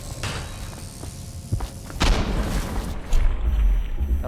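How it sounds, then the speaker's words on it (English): In the video game Dishonored, a hand grenade goes off with heavy, booming thuds that rise over a dense, rumbling game soundscape. "That was a hand grenade, that was not the heart."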